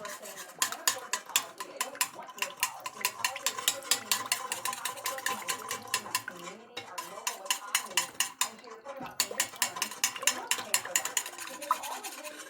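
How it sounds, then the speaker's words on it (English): Spoon stirring sour cream into a brown gravy in a pan, a rapid continuous series of scraping clicks against the metal, moderately loud and close, with brief pauses. "I'm using the spoon so I can get all of it off the spoon to stir with"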